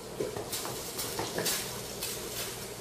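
Sizzling from a pot of water under a bowl of melting chocolate for dipping: a soft, steady crackle and hiss with light clinks and stirring scrapes, close and fairly quiet.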